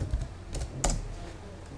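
A short burst of typing on a computer keyboard: a few close, distinct key clicks over a faint background hum, with no voices.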